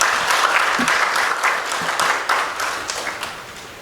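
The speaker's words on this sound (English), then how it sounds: "So can we clap for these partners?" Audience at a government and civil society gathering applauding, a loud, dense burst of many hands clapping that holds steady for several seconds before gradually tapering off.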